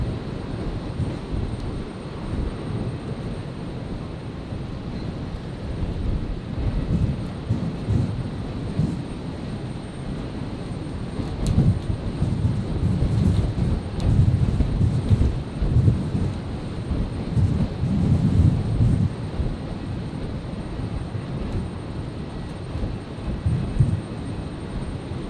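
An Air New Zealand A321neo jet takes off from runway 01 right at Brisbane International Airport on a stormy night, its engines a broad, rumbling roar that swells toward the middle and then slowly fades.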